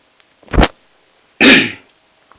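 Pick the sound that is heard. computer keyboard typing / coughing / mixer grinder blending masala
coughing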